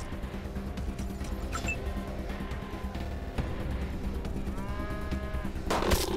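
A cow lowing in the post-apocalyptic game Wasteland 2 during a firefight, a low moo under a busy background of ambient mechanical noise and scattered effects, with a sharp burst near the end.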